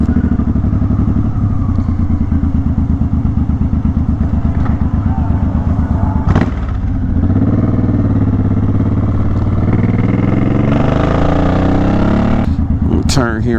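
Suzuki Boulevard motorcycle engine running steadily while being ridden, a loud continuous rumble with a few clattering thumps and a shift in pitch partway through.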